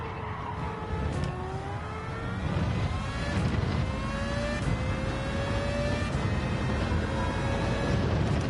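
V10 racing car engine, modelled on an F2004-era Formula 1 car, in a racing video game, steady high-pitched whine rising through gears in repeated upshifts, loud and continuous with no talk.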